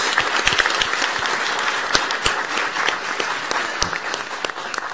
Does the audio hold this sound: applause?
yes